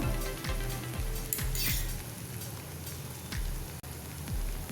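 Sweet potato dosa batter sizzles steadily in a hot oiled nonstick pan, a continuous hissing crackle with low rhythmic sounds running underneath.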